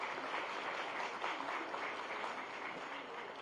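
An audience at an Institute of Town Planners, India (West Zone) conference applauds, a dense, even wash of many hands clapping at once, steady and somewhat distant, with no speech over it.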